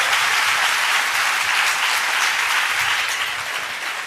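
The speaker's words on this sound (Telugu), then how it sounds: "చప్పట్లు కొట్టి మహిమ పరుద్దాం." A church congregation claps together in loud, dense, sustained applause that fills the room and fades slightly toward the end.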